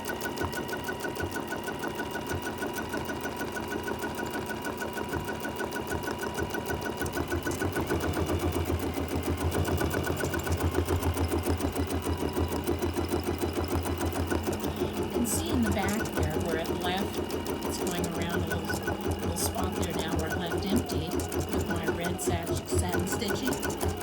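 A sewing machine satin stitches around a mug rug, its fast steady needle chatter running continuously and loudly, with a brief shift in pattern partway through as stitching changes.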